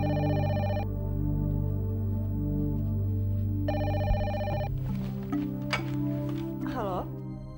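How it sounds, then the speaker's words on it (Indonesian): Telephone ringing in an Indonesian television drama, two clear repeated bursts of electronic bell tones over a background music bed, followed by brief clinks and a descending musical sweep. "Itu pasti telepon buat Mita"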